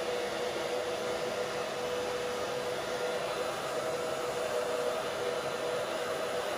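A hair dryer runs steadily on a low setting while drying and setting bangs into place, a continuous close whooshing roar that holds unchanged from start to finish with no talking.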